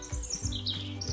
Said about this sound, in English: If you listen carefully, you have to hear the birds singing.